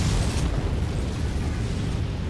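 A loud, dense rumbling blast from an ammo explosion in MechWarrior 5, a sustained roar of burst and boom energy running the full length with no break.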